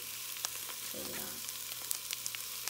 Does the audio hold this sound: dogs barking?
no